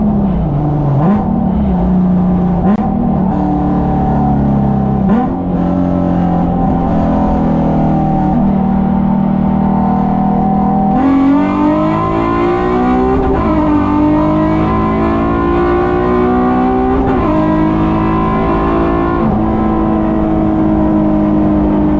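A swapped Nissan 350Z with an upgraded differential is driven hard, its engine revving up repeatedly through gear changes, loud and close from inside, with a brief tyre chirp.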